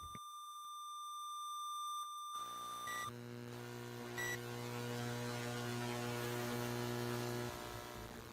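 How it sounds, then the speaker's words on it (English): Voyager Golden Record image data: a faint electronic tone, then a short beep, then steady buzzing tones with a second beep, flat and droning under a low hum. "It is a series of varying tones, each separated by an audible beep."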